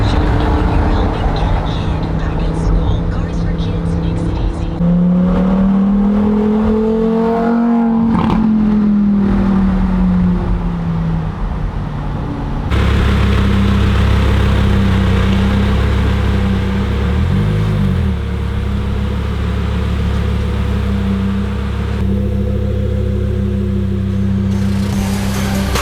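A Lamborghini Huracan EVO starts up and its exhaust revs, a loud engine rising and falling in pitch, then settling into a deep steady idle with a few blips. People talk faintly nearby.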